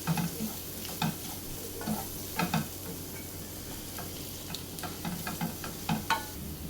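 Garam masala and kasuri methi frying in a pan for a brinjal masala, a soft continuous sizzle with repeated spoon stirs and light taps against the pan, fairly quiet with no talking.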